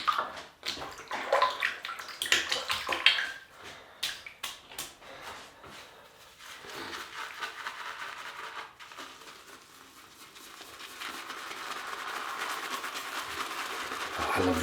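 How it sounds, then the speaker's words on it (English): A brush whips Palmolive shaving cream into a lather with close, wet, swishing strokes, busier and more rhythmic at first, then settling into a softer, steady frothy churn. "So we'll create the lather and then we're back to shaving normally now"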